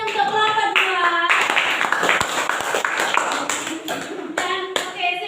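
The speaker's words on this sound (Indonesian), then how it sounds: "Beri tepuk tangan untuk kelompok 2." A classroom group claps for group 2 after a teaching performance test, a dense burst of hand claps lasting a few seconds, with a teacher's voice before and after it.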